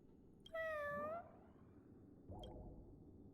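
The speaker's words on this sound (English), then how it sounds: "Oh, such a quiet little meow." A soft, quiet cat-like meow from a creature in the Honkai: Star Rail video game, one short tonal call with a fainter, brief second mew about two seconds later, heard alone over faint background noise.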